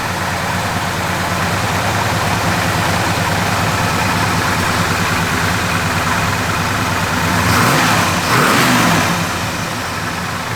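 A 1966 Chevrolet Malibu with a mild cam, loud and close, holding a steady lumpy idle before a brief rev swells and drops back near the end.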